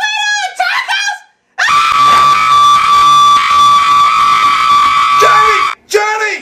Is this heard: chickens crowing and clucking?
no